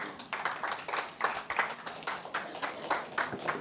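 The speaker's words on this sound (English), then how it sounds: "Let's give a big round of applause to all the speakers." Audience applause for the speakers at the end of a panel discussion at a women makers celebration, a steady patter of many hands clapping with slight swells, moderately distant and fairly soft.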